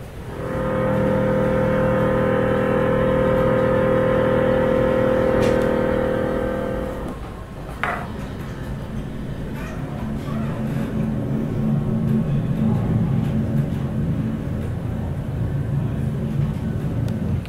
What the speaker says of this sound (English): That buzzing sound that you heard when the plane took off was actually called the butt kicker.